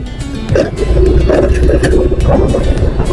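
Strong wind buffets the microphone in a steady low roar, with gusty rumbling throughout and no voices.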